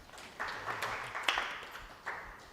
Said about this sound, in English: if you're happy and you know it,